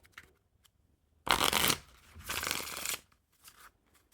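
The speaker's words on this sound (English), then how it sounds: "when you riffle shuffle it, the design will be all mixed up" Playing cards are riffle-shuffled up close: two quick fluttering bursts of cards interleaving, followed by a soft tap as the deck settles.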